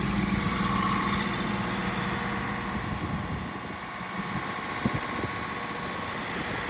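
A 22,500 watt generator on a 2022 Peterbilt 389 motorhome runs with a steady, even engine drone, close and constant, with a couple of faint knocks partway through.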